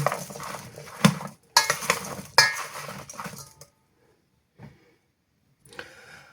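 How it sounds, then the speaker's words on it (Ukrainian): Clinking and scraping of a utensil against a bowl in bursts as eggplant is salted and mixed, with quieter gaps and a few soft knocks near the end. "Складаю у мисочку, солю, перемішую і залишаю так мінімум на 15 хвилин."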